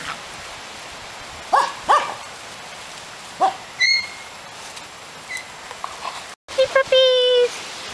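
Puppies almost six weeks old bark and yip in short, high bursts in a yard, scattered and a few seconds apart, some near and some farther off.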